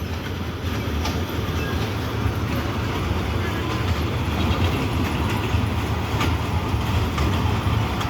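A small ride-on amusement train rumbles steadily along with a continuous clattering, fairly close and loud throughout.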